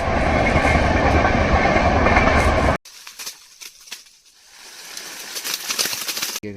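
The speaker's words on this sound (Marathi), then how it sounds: "इथे ट्रेन आली आहे" A train rushes past loud and close with a dense roar that cuts off suddenly, followed by quieter rattling and clatter as it recedes, near a cashew orchard.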